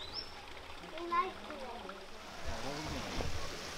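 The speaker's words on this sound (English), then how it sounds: "Emerald Pool, we have this waterfall." A small waterfall at Emerald Pool in Zion National Park splashes and trickles steadily in the background while people talk over it.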